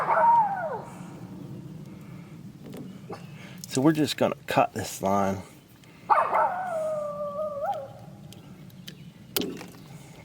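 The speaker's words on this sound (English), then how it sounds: "We've got the dog hound back here." A hound dog named April whimpers and howls in drawn-out, wavering cries near a sawmill, with two clear bouts separated by someone talking close by.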